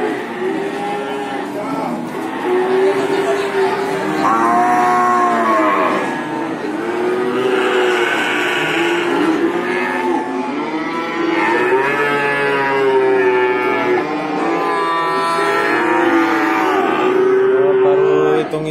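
Female Javanese cattle low repeatedly and loudly, several drawn-out moos overlapping one another from close by, with no talking among them.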